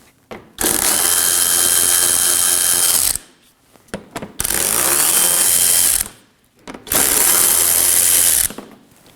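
Three long bursts of a power ratchet spinning out 10mm bolts from the fender liner of a 2013–2019 Nissan Sentra, loud and close, each run lasting a few seconds with brief pauses between, and no talk.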